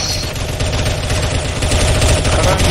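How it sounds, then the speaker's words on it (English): Rapid automatic gunfire rattles in a CS:GO Zombie Escape match, a loud, dense, continuous stream of shots with no break across the whole stretch and no voices. "How about any other little gunshots though?"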